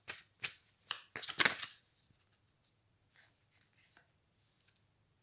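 A deck of playing cards being shuffled in several quick riffling bursts early on, followed by quieter, sparser card handling and a brief riffle near the end.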